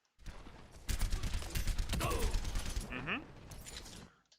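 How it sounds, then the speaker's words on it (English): Soldier fires his rifle in Overwatch, a quick burst of close, rapid shots lasting a couple of seconds, followed by a few mechanical clicks and whooshes before fading. "Little late to be taking your shots there."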